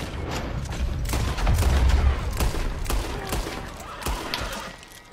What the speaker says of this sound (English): and y'all over here busting shots at me?